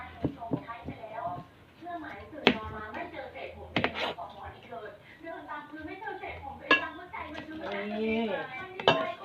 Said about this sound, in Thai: เราจะตั้งกระทะแล้วนะคะ กระทะมาแล้ว